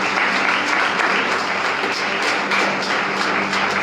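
Congregation applause at a Palm Sunday church service, a loud, steady wash of many hands clapping that fills the whole room without pause.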